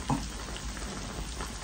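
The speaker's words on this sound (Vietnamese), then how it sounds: "trời còn bây giờ nó mưa quá trời luôn rồi" Heavy rain in June pouring steadily around an outdoor Vietnamese frog hotpot meal, a dense even hiss with no breaks, no talk heard.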